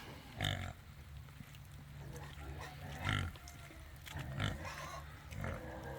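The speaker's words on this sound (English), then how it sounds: "Poor pigs in the mud." Pigs on a muddy, waterlogged farm grunt and squeal in several short bursts at irregular intervals, fairly faint and close, over low background noise.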